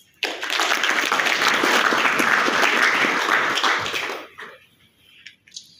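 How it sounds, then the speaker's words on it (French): Audience applause in an assembly hall after a speech, a loud burst of many hands clapping that swells, holds for about four seconds, then stops abruptly, leaving faint room noise. "Sous nos applaudissements."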